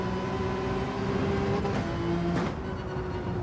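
A race car engine in Gran Turismo 7 holds a steady high drone through a daily race warm-up, dipping briefly as the throttle shifts before climbing back, loud and close with no voices.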